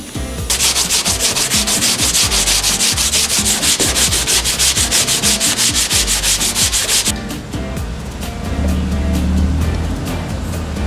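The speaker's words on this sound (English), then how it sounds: "I could sand this upside down" Bondo body filler on a van is sanded with quick, rhythmic back-and-forth rasping strokes, close and loud, which give way after about seven seconds to a duller rubbing scrape.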